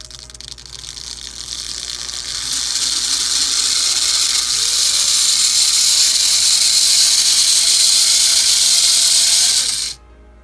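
An American Flyer 583 electromagnetic toy crane runs on track power, its small motor giving a steady mechanical whir with ratcheting gear clatter that builds after a couple of seconds and stops abruptly near the end.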